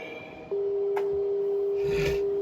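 A telephone busy signal comes through as one steady, continuous tone that starts abruptly and holds unbroken over faint room noise. A brief click and some rustling sounds come through on the line.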